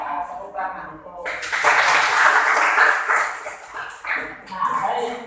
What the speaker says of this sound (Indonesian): coba tepuk tangan untuk